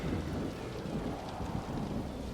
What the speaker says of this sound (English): Oh, we got the thunder, rain, rainstorm.